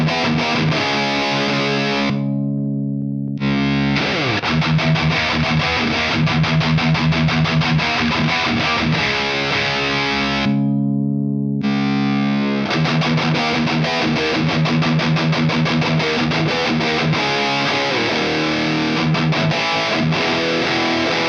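Revv G3/G4 distortion pedal on electric guitar, a loud, tight, processed and slightly harsh distorted riff played in bursts with two brief pauses, alone with no talk.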